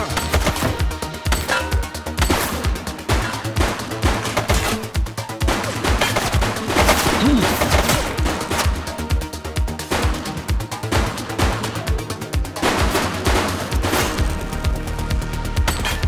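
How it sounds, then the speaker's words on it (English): Heavy gunfire in the police video game The Precinct: loud, dense bursts of rapid shots that continue without a break, with repeated sharp cracks layered over a thumping background. "She's shooting!"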